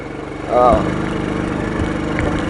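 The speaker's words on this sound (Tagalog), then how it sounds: "talagang nagre-gira yung motor ko mga idol" A motorcycle climbing a slippery, muddy uphill trail, its engine revving hard with a steady low drone and one sharp surge early on, close by, with a voice talking over it.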